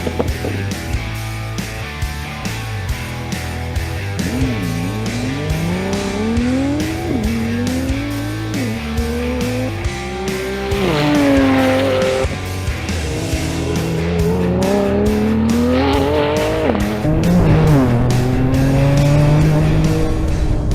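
A fast Porsche sports car on a test drive in Finland, its engine loud and close, revving up and down through gear changes with rising and falling pitch, and brief tire noise.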